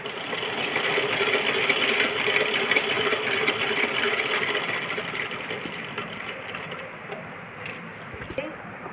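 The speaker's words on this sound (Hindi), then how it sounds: "मशीन पे रखेंगे, ऐसे सिलाई कर देंगे इस पर भी।" A sewing machine stitching fabric for a kachli, a steady, fairly close whirring hum that runs continuously and eases off slightly toward the end.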